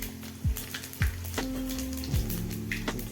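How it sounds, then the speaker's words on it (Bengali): Bay leaf and panch phoron spices dropped into hot oil for an egg curry, crackling and sizzling steadily and close, with a few soft utensil knocks. "তেজপাতা, সাথে 5 ফোড়ন দেওয়া হবে এখন"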